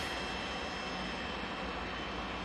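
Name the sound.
Pilatus PC-24 jet aircraft at Manchester Airport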